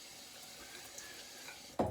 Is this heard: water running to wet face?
yes